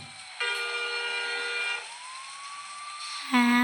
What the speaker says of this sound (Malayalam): ആംബുലൻസ് മുമ്പ് പോകുന്നത്, നമുക്ക് ആംബുലൻസിൻ്റെ പിന്നാലെ എല്ലാം കൊണ്ടുപോയി.